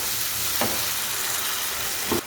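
Tinned tuna chilli sizzling in a pan while being stirred, a steady hiss with two soft scrapes, close by with no voices.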